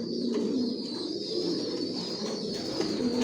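White racer pigeons cooing in a loft, a steady layered murmur of soft low coos from several birds close by, continuous throughout with no talk.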